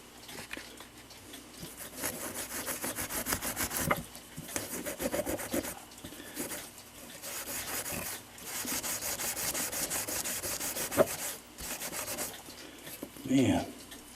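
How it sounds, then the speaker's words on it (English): Fine steel wool rubbed back and forth over a stained mantel clock case, a continuous soft rasping scrub in long strokes with brief pauses, close and fairly quiet. "I'm just going to clean them up with this 4-aught"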